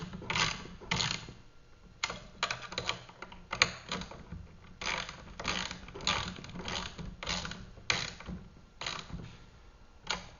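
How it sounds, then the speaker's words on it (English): Upper Y handle bolts being tightened on a Bora series magnetic sweeper, a ratcheting tool clicking in quick repeated bursts, close and fairly quiet. "our last step is to tighten our upper Y handle bolts"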